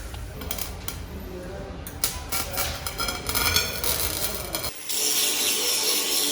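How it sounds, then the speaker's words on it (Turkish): Weld seams on a camper van's roof terrace being cleaned, a continuous harsh scraping and grinding noise that shifts in intensity, close and steady with no clear pauses. "Kaynak yerlerinin temizliğini yapıyoruz şimdi."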